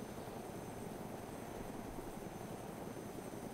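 Helicopter in the survival game DayZ Epoch, a steady low rotor thrum and engine drone that stays constant and moderately quiet throughout, with no voices.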